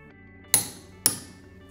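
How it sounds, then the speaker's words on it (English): Adjustable click-type torque wrench reaching its set torque, giving two sharp, bright metallic clicks about half a second apart, close and loud against a quiet background. "When the set torque is reached, the wrench typically emits a loud, audible click."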